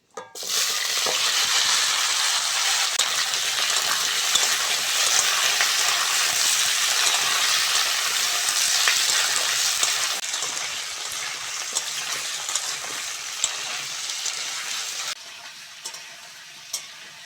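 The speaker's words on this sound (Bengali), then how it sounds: "সবজিগুলো ভালো করে ভেজে নিয়েছি" Cut vegetables such as radish fry in hot oil tempered with dried red chilli, bay leaf and five-spice, giving a loud, dense, rain-like sizzle that gradually softens, with a few light stirring knocks near the end.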